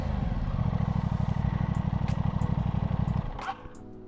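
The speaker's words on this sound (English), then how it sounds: "Now I can start the bike up again." A motorcycle engine in first gear idles with a steady, close, rapid chugging beat for about three seconds, then cuts out to a faint clatter.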